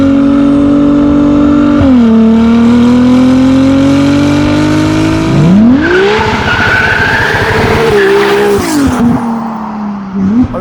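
A Ferrari 296 GTS with a Novitec exhaust revs loudly and close, its engine tone rising and falling in sustained sweeps, with some tire squeal mixed in.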